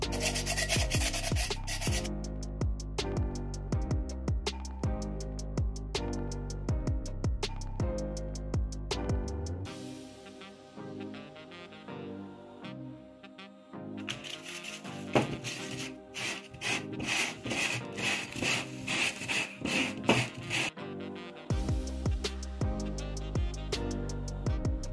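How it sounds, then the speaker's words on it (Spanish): Sandpaper rasps back and forth over the cut edge of a glass bottle in quick, rhythmic strokes, close and loud, pausing briefly before the scraping resumes. "agarramos y pasamos la lijita."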